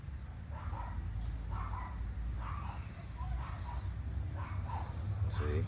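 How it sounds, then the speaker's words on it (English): A dog barks repeatedly at some distance outdoors, in short yelping bursts at a fairly even rhythm over a constant low rumble. "See, got Buttercup over there barking"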